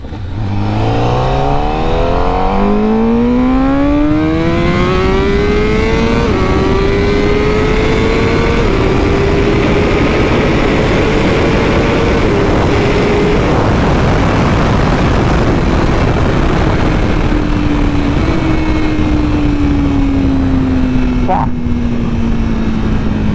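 A Honda HRC motorcycle engine at very high speed, loud and close, rising steadily through the revs with brief gear-change dips and a constant roar of wind, a voice talking underneath.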